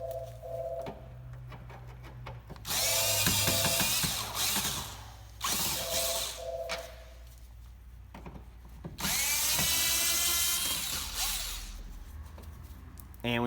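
A power driver backs out screws from the side of a Honda Accord rear bumper: three loud, close whirring bursts of a few seconds each, separated by quieter gaps, with no talk.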